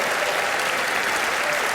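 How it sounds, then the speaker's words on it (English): A magic show's studio audience claps in a brief, dense burst of applause at even loudness. "Give her a huge round of applause."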